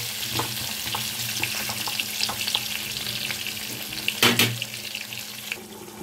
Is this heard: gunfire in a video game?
no